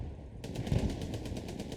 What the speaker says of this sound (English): the hull gun has been going here